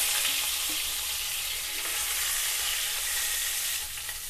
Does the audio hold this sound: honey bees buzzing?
no